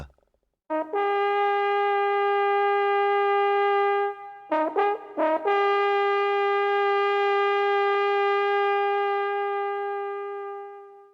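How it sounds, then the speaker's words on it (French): A horn is blown to call a goat back, sounding a loud sustained tone that starts abruptly, breaks briefly into a few stuttering blasts, then holds steady and slowly fades. "elle entend le bruit d'une trompe"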